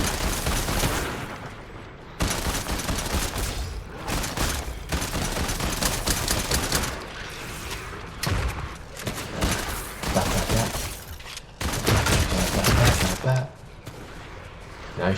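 Dense Fortnite gunfire fills the whole stretch with rapid automatic bursts and overlapping shots that are loud and continuous, broken only by a few brief lulls, with a voice heard faintly underneath.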